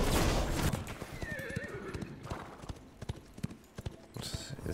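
A horse in the Ashes of Creation MMORPG gives a loud whinny over steady clip-clopping hooves, with game battle noise and occasional faint talk around it.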